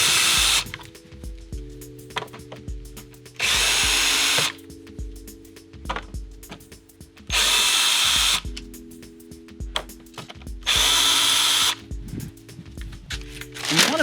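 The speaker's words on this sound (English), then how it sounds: "we want to unscrew the existing nav port" A power driver unscrews an existing navigation light fixture on a fishing boat, close by in three short whirring bursts separated by pauses, with a low steady hum underneath and no talking.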